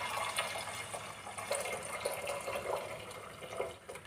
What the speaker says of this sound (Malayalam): അപ്പോൾ ആ പാല് നമുക്ക് ഒഴിച്ചു കൊടുക്കാം.